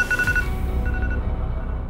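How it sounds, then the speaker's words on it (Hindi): A telephone rings in an indoor domestic scene from a Hindi TV drama, its electronic ringtone chirping in two short bursts over a low room hum, with no talking. "मनीष जी का फोन उठाओ उठाओ।"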